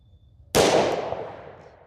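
A single sharp gunshot from a 1911 pistol firing .357 Sig DoubleTap 125-grain controlled-expansion ammunition, loud and close, with a bright crack followed by a long decaying outdoor echo.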